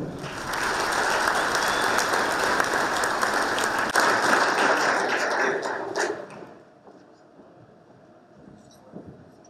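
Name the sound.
applause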